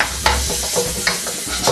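A wooden spoon stirs sizzling curry in a pan to break up chunks, close scraping strokes in an uneven rhythm over a constant fry.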